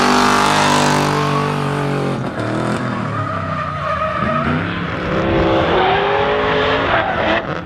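A drift car at a D1NZ drifting event at Taupo spins on track, its tires squealing loudly over a revving engine, the screech sweeping in pitch as the car rotates, close and continuous for several seconds.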